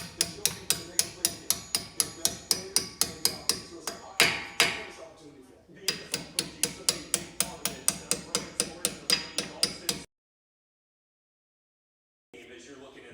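A hammer taps brake pad pins into Brembo calipers on a Dodge Durango SRT Trackhawk, ringing out as a fast, steady run of sharp metallic strikes, close and loud, pausing briefly midway, then stopping before a faint rustle.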